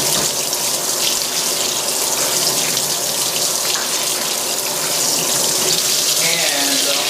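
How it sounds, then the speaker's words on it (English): Water gushes steadily into the drum of a Fisher & Paykel Smart Drive GW712 top-loading washing machine, a loud continuous rushing flow close by that lasts the whole stretch without a break. "I'm just going to pop some water in there"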